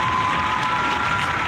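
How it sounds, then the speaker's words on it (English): A small group claps in a podcast studio, a brief even patter of hands lasting under two seconds with no talk over it. "Clap for yourself."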